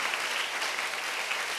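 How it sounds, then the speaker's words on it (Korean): Korean church congregation applauding to give glory to the Lord during a sermon, a steady, dense wash of many hands clapping at once, sustained and fairly close, with no voices over it. "다시 한 박수로 주님께 영광을 드립니다"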